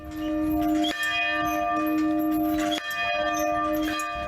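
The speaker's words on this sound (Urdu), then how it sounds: "پراسر تقریب کے اختتام پر بجائی جانے والی چرچ کی بلند گھنٹیوں کی گونج سرحد کے دونوں جانب سنائی دے رہی ہیں" Loud church bells ring out at the end of a ceremony in Lebanon, sustained resonant tolls with fresh strikes about every two seconds, humming overtones carrying between them.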